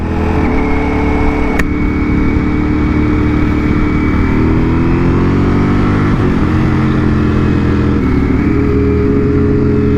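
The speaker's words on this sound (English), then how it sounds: "those downshifts are so smooth" A 2022 Ducati Panigale V4 engine rumbles loud and close with steady harmonic drone, pitch shifting as it revs and blips through downshifts on a ride, no talking.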